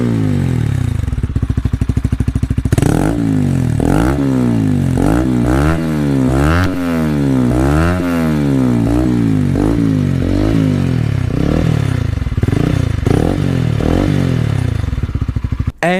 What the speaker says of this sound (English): let's take a listen to it while we rev it a little